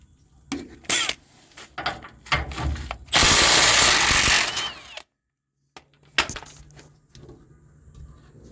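A 17 mm bolt is worked loose from a leaf spring mount on a Nissan D21 Hardbody pickup, with sharp ratcheting clicks and bursts, a loud sustained power-tool run of nearly two seconds, a brief silence, then more clicking.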